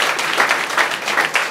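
A church congregation claps for Jesus Christ during a sermon, a brief, loud, continuous burst of many hands clapping together with no voices over it.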